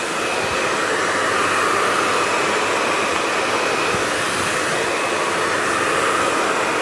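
A hair dryer blows continuously and loudly while drying a bob hairstyle in a salon, a steady whooshing roar with no pauses or talking.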